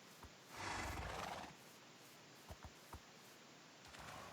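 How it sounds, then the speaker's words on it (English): Horses in the Minecraft video game whinny in a burst early on, followed by a few soft hoof-like clops and a faint call near the end, quiet overall. "There's a lot of horses."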